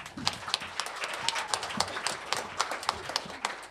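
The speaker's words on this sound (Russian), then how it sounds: "Аплодисменты Наталье." An audience clapping at a masterclass event, a moderate crowd of hands with distinct individual claps standing out in an uneven rhythm, fairly quiet and steady.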